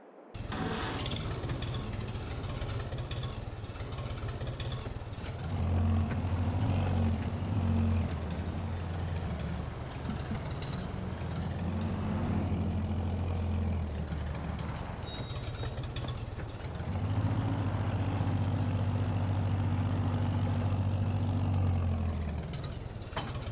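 A heavy vintage tractor engine in Farming Simulator 22 drones continuously at close range, its low rumble swelling louder in stretches as if revving, then settling back to a steady idle.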